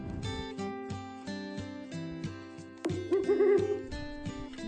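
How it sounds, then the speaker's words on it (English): An owl hoots a few times, fairly faint, in the second half over a plucky repeating children's music backing track. "An owl makes that sound."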